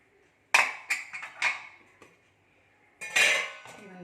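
Metal pot lid and utensils clanking over a pot of cooked rajma (kidney bean curry) on a low flame: a sharp clang, a few quick clinks and taps, a pause, then a louder scraping clatter, close by with no talk.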